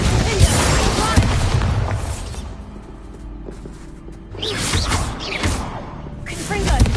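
Confringo explosive spell blasts in Hogwarts Legacy, heavy booming bursts spread through the stretch with dense combat noise, mixed with shouted voices.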